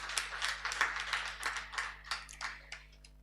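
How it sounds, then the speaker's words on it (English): A small audience at a criminal law review conference claps after a presentation, a thin patter of separate hand claps with a few clear individual strikes, fading slightly toward the end. "A round of applause again."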